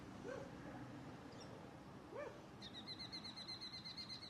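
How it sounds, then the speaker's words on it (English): Dogs in a crate near a round yard, with a couple of faint, brief whimpers and yips at a distance. A steady high chirping, likely birds or insects, joins partway through. "there's some dogs on the crate"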